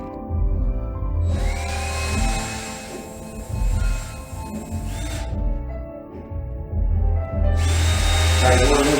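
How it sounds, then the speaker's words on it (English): A power drill drives screws while a Lockly smart lock is installed, in several loud whirring bursts separated by short pauses, with a brief voice between runs. "I'm going to go ahead and tighten these screws."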